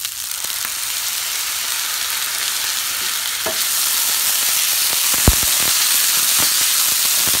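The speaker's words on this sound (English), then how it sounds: "Stir fry all those flavors together." Quinoa fried rice with hot dog, soy sauce and sesame oil stir-frying over high heat: a loud, steady sizzle and hiss, with scattered scraping and clicking of stirring against the pan.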